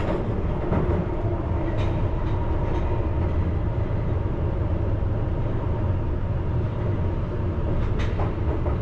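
A London Underground Piccadilly Line train runs eastbound towards Oakwood depot near Wood Green, a loud continuous rumble and roar from inside with faint rhythmic track clicks and occasional squeals, no talking.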